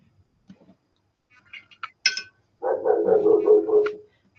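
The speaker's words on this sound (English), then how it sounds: "There's the dog again." A dog barks once or twice after a few faint clinks and taps, the bark fairly close and brief, with no talking.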